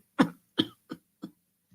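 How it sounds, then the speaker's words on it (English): Four short, sharp coughs in quick succession, then a faint fifth, close up with no other sound between them. "That's a fake cough."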